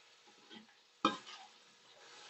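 Garlic and ginger paste is stirred in a cooking pan with a faint sizzle underneath. One sharp scrape of the spoon against the pan stands out in an otherwise quiet moment.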